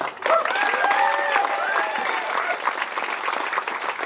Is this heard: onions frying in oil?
no